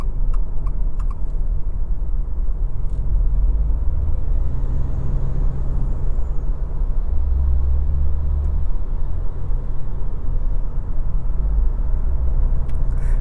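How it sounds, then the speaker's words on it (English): Steady road and engine rumble fills the cabin of a 2024 Subaru Crosstrek Limited cruising at highway speed, a constant low drone with tyre noise and no talking. "the cabin isn't too loud at highway speeds"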